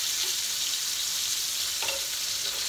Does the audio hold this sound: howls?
no